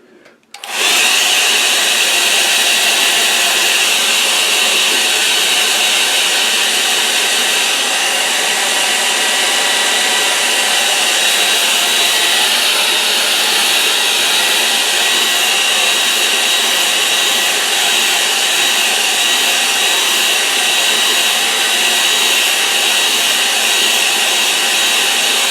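A hair dryer blows steadily over a wet-in-wet acrylic painting of a snowy pond, switching on abruptly and then running loud and unbroken with a constant high-pitched whine.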